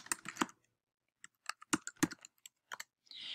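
Typing on a computer keyboard, a few quick bursts of crisp key clicks separated by pauses, close and quiet with no voices.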